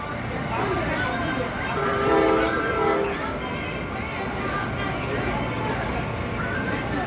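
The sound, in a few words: NJ Transit multi-level train arriving at Trenton station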